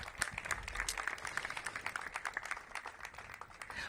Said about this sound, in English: So give Jair a big round of applause.